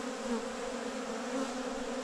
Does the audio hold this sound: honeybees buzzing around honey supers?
yes